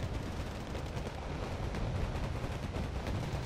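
Cluster artillery fire pounds down in Wargame Red Dragon, a dense, continuous rumble of overlapping distant blasts and crackling impacts rolling on steadily throughout with no pauses.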